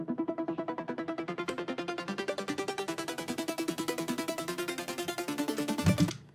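Dubstep intro synth arpeggio running a fast, steady pulsing pattern of plucked notes through a low pass filter, repeating evenly for several seconds before a short thump at the end.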